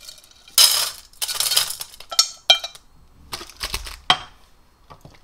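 Close, bright clinks and rattles as ingredients, including angelica root, are dropped and shaken into a metal pot in several short bursts.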